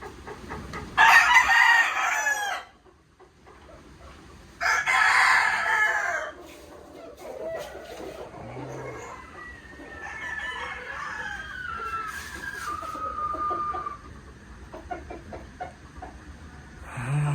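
Roosters crow loudly in two long bursts, followed by scattered clucking and distant crowing from several chickens, close and repeated.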